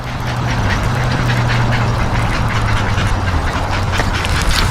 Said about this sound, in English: I don't know if y'all can hear those herons in that tree.